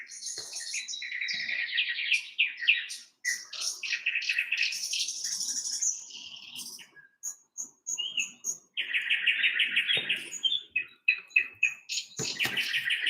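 Small birds chirp and tweet in quick, busy bursts, with dense overlapping calls and short pauses, fairly close and moderately loud.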